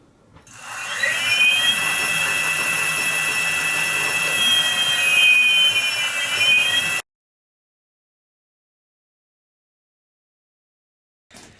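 Homemade electric mountain bike motor with flux weakening turned on spins up to a sustained high-pitched whine, loud and close, holding steady for about six seconds before cutting off abruptly into silence.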